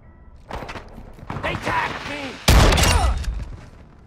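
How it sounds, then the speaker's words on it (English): Assault rifle fire in the game Call of Duty breaks out as a loud, close burst in the second half, following earlier softer impacts, with voices talking over the sounds. "Assault rifle here."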